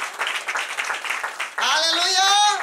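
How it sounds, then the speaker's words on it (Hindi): Applause breaks out at a Christian church gathering as a burst of broadband clapping, then a voice rings out clearly over it for the final second. "जोरदार ताली बजाए।"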